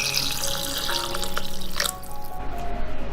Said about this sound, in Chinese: 再来加入适量清水